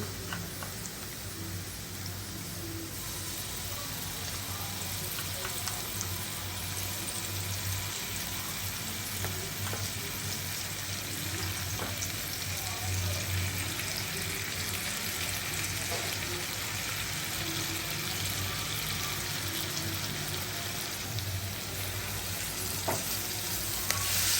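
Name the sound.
garlic paste frying with onions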